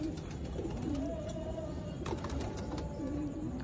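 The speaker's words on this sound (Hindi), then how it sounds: "हमारे 100 नंबर कबूतर हैं माशाल्लाह, लाजवाब हिस्ट्री मेकर कबूतर हैं।" Pigeons coo in a series of soft, low, rolling calls at a loft of prized racing birds, close and fairly steady, with faint background noise and no talk.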